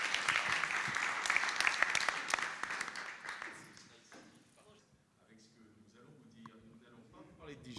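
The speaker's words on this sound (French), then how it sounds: "Sous vos applaudissements" An audience at a business networking event claps for two presenters, loud crisp applause for about four seconds that thins and fades out, followed by quieter room sound with faint talk.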